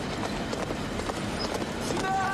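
Horses gallop in a film action scene, steady hoofbeats driving along at mid distance beneath a busy mix of battle noise, with people talking over it.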